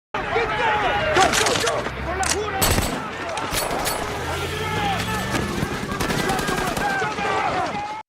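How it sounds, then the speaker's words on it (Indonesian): Gunfire erupts in a police raid shootout scene from a film, with loud bursts of rapid shots and sharp single cracks across the clip, mixed with voices and other film sounds. "terjadilah adegan baku tembak di sana"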